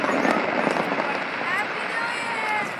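Fireworks going off, a dense crackling and popping barrage with scattered sharp bursts, heard amid crowd noise and talking.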